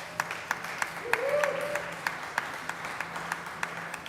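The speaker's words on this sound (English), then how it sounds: "So let's give all of our staff a round of applause." Slow, sparse clapping in the Colorado Senate chamber during an extraordinary session, a handful of distinct claps spaced out with a brief voice partway through.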